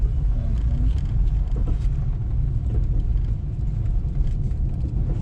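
A Honda Pilot SUV drives off-road along a curvy, undulating desert ridgeline trail on the Onion Creek Loop near Moab, giving a steady, close low rumble of engine and tires that holds throughout with no speech.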